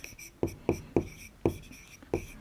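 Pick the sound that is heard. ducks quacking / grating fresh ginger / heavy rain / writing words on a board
writing words on a board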